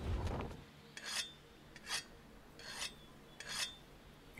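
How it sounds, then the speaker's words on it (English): A weapon is sharpened with a whetstone in Monster Hunter World: after a brief thud, four evenly spaced rasping strokes scrape across the blade, crisp and close against near silence. "The weapon is losing its sharpness. Create some distance, then use a whetstone."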